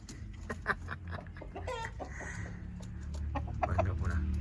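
Chickens clucking and squawking close by in short, irregular bursts over a busy outdoor background, with faint talk mixed in.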